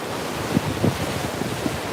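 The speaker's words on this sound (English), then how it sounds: "It's pretty messy, but the waves are impressive." Heavy, messy high surf from an advisory-level swell of 6-8 ft waves at Santa Cruz, heard as a steady broadband ocean roar with wind buffeting the microphone and a few brief thumps. No voices.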